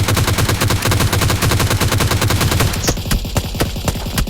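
Rapid automatic gunfire from a gun in a video game, a loud continuous burst of closely spaced shots, dense and near, with brief sharper cracks near the end.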